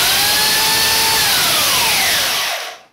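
A chainsaw runs at a steady high whine while cutting a hard wheel of Parmigiano Reggiano cheese, loud and close, its pitch sagging slightly before the sound cuts off abruptly near the end.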